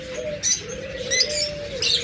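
A pair of caged lovebirds, offered for sale at a bird shop, gives bright repeated chirps over a soft, continuous cooing, loud and close throughout.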